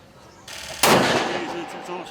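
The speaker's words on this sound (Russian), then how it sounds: "глава региона на практике проверил точность стрельбы новой снайперской винтовки" One loud, sharp shot from a new sniper rifle with a short echoing tail, preceded by a rise in background noise and faint murmuring.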